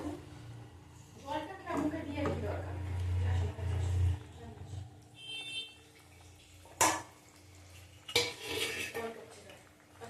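A metal lid clanks and scrapes onto a cooking pot holding a simmering curry of tengra fish with cauliflower and potato, giving several sharp clatters amid stirring noises while someone talks.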